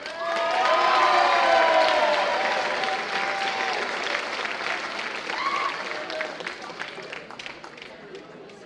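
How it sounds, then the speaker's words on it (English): High school audience giving a round of applause at a Decision Day ceremony, a full burst of many hands clapping with some cheering, loudest early then gradually fading while a voice carries over the tail. "give them a round of applause"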